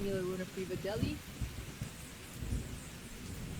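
Rain and a thunderstorm in a horse riding video game: steady rainfall hiss with low rumbling thunder, a voice speaking briefly over it at the start.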